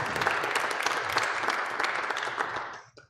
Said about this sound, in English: can we hold our applause to the end?